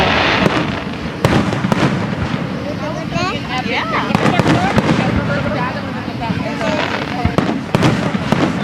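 Fireworks exploding outdoors, a string of sharp booms and crackles over continuous wind rush, with people talking throughout.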